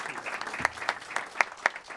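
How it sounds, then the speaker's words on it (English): Applause at a city council meeting, a fairly quiet patter of clapping from a modest crowd with a few distinct sharp claps popping out near the mic. "Let's give them another round of applause."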